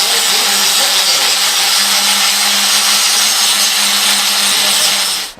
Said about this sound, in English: I got to grind all the weld off here